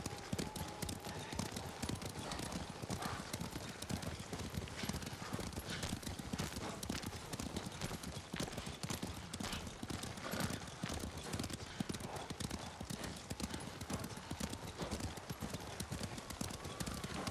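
Horses trotting with steady clip-clopping hooves in the video game Ghost of Tsushima, a continuous dense rhythm over a busy game soundscape, with no speech.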